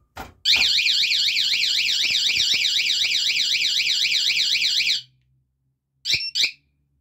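Car alarm siren wailing loudly in a rapid warbling pattern for about four and a half seconds after the car is knocked on, then cutting off, followed by two short chirps.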